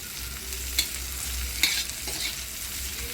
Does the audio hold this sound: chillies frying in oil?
yes